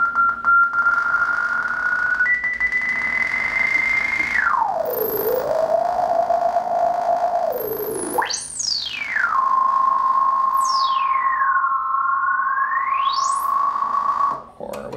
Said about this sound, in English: it's going to self-oscillate, which is going to give you those squeals